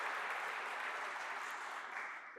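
An audience applauds steadily, a broad wash of many hands clapping that fades slightly toward the end.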